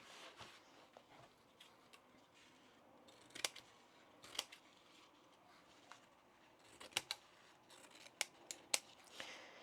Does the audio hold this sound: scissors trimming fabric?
yes